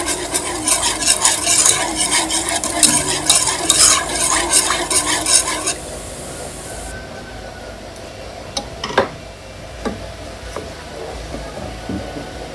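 Spoon stirring a gulaman dessert mixture in a pot with fruit cocktail, a busy scraping and clinking rhythm for several seconds that then drops to quieter sparse taps and faint background.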